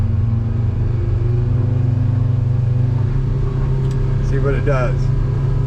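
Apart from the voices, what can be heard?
boat running on port outboard motor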